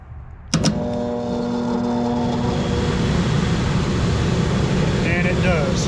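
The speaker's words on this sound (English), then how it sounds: "I want to make sure that the only thing that runs when G comes on is the blower." An HVAC system blower fan kicks on with a sharp click, then runs as a steady broadband whoosh with a low motor hum, continuous and close throughout.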